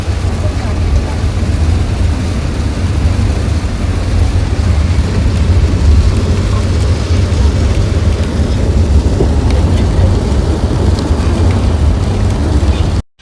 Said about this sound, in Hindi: बहुत तेज बारिश।